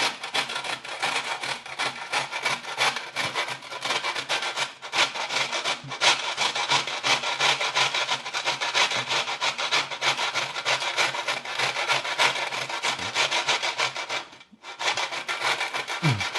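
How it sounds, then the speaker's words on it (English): Food being grated for spaghetti and meatballs, a rapid rhythmic rasping scrape repeated continuously up close, with one short pause near the end. "I'm just gonna grate this."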